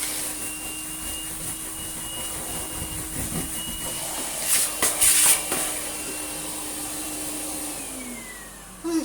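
A corded Karcher T9/1Bp backpack vacuum cleaner after refurbishment runs steadily and fairly loud throughout, a continuous motor whine with a brief surge of hissing airflow midway and no talking.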